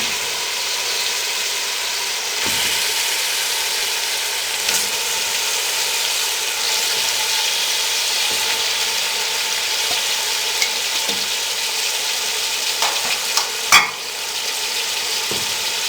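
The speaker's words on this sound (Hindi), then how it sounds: "बीफ को हम मीडियम फ्लेम पे 3 से 4 मिनट भून लेंगे" Beef frying over a medium flame in a pan, with a steady loud sizzle and periodic scrapes and clatters of stirring throughout.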